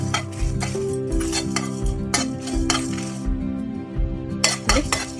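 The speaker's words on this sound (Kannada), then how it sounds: "ಇದಿಷ್ಟು ಸ್ವಲ್ಪ ಚೆನ್ನಾಗಿ ಫ್ರೈ ಮಾಡ್ತೀನಿ." Red chillies fried in a pan for a restaurant-style egg masala, with steady stirring and the clink of a metal spoon against the pan over a soft sizzle, close and continuous.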